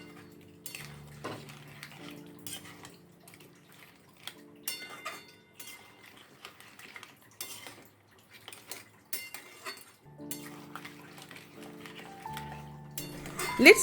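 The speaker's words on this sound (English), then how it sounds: "Go on stirring for some time" A spoon scrapes and clinks against a pan while crab curry simmers in coconut milk. The irregular metallic taps and scrapes are moderately quiet, with background music running underneath.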